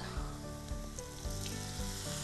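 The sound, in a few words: spices roasting and sizzling in oil for Bhopali paneer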